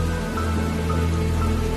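Steady rain falls continuously as a dense, loud hiss with no pauses, set as ambience for a Hindi horror story.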